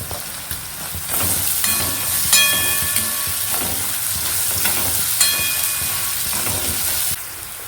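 Ginger garlic paste and curry leaves frying in hot oil for a Telugu prawn and ridge gourd curry, a steady close sizzle broken by a few scraping, ringing stirs against the pan.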